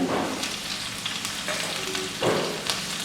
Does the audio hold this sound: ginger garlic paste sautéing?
yes